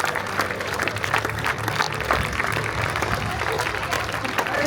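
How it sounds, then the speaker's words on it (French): An audience applauds at a prize-giving ceremony for a three-star event in Saulieu, with dense sustained clapping and crowd noise and voices faintly mixed in. "Mesdames et messieurs, sous vos applaudissements, on va accueillir au pas de course Thomas Carlyle."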